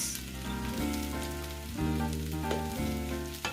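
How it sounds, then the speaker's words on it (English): Nigerian fried rice frying in a pan over high heat, giving a steady, close sizzle and crackle throughout, with a soft tonal background sound underneath. "So you fry this on a high heat."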